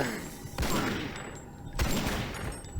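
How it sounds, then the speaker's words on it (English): Pistol shots ring out at zombies in Doom 3, two sharp broadband blasts about a second apart, each trailing into a reverberant, ringing game-sound tail, loud and close with no talk over them. "I'm gonna take him out with my pistol"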